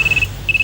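Electronic telephone ring in two short warbling bursts separated by a brief gap, close and clear, with no talking.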